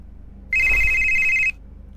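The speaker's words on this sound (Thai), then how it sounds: "เริ่มมามีเสียงโทรศัพท์" A telephone rings once in the horror video game Midnight Prowl, giving a single steady electronic tone about a second long. It is loud and close against a faint low background hum.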